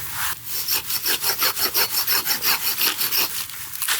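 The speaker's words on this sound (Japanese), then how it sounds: "こんだけね、太い薪はさすがに割れないので、ノコギリでね、折ります。" A handsaw rasps through a thick piece of firewood in steady, even back-and-forth strokes, loud and close, about two strokes per second, at a campsite.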